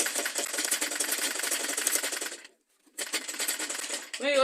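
A sewing machine stitches a fabric tote bag with a fast, busy mechanical chatter that stops briefly, then resumes, close and fairly loud with no talking.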